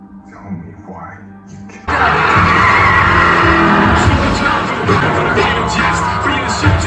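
Cars racing in a Fast & Furious 9 movie scene, with a quiet opening that bursts into a loud, sustained roar of engines and skidding tires, close and continuous to the end.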